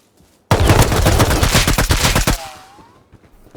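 Gunfire in the survival game Rust during a night raid at a missile silo: a sudden, loud burst of rapid automatic shots lasting about two seconds, then cutting off to near quiet with a faint tonal sweep.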